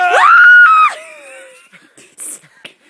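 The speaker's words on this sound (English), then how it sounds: "Pardon my shriek, my girlish shriek." A man lets out a girlish shriek outdoors near South Lake Tahoe, one loud high-pitched scream lasting under a second, followed by faint rustling and small noises.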